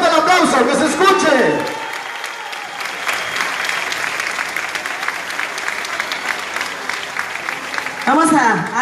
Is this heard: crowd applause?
yes